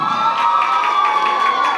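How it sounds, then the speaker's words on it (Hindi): Audience at a sangeet celebration cheering and clapping, a short dense burst of crowd noise with rapid claps and excited voices. "जरा तालियां हो जाए।"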